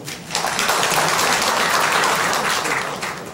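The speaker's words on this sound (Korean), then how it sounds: "박수 한번 주세요." Audience applause at a Won Buddhist university lecture, a full burst of clapping rising quickly and holding steady before tapering slightly at the end.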